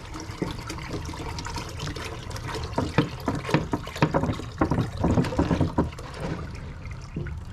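Water and tea are mixed together in gallon containers in a garden, giving close, continuous sloshing and pouring with irregular splashes and gurgles that grow busier toward the end.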